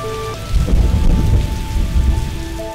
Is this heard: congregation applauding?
no